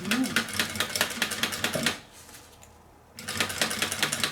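A sewing machine stitches the final side seam of a bellows in rapid, steady bursts, pausing for about a second in the middle before running again at close range.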